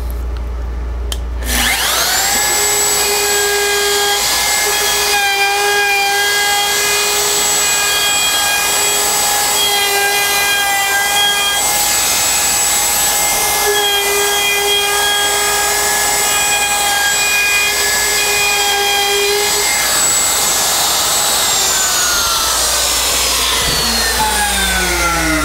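Power carving tool chamfering the back edge of a carved wooden church sign, a loud continuous high-pitched whine that holds steady for about twenty seconds, then winds down at the end, close by and alone.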